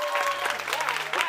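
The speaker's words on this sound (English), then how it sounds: "We deserve a clap for that." An audience at a televised pageant show claps in a short, dense burst of many hands, fairly loud and close, with faint talk mixed in.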